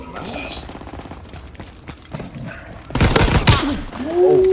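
Shotgun blasts in Call of Duty: WW2 multiplayer, a couple of loud, booming shots near the end after softer scattered in-game clatter, with someone talking over the first half.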